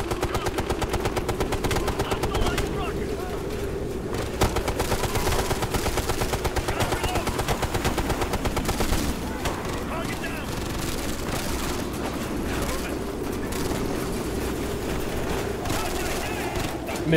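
Rapid video-game gunfire from Ghost Recon: Future Soldier, dense automatic bursts running almost continuously and loud throughout, with a voice speaking beneath the shooting.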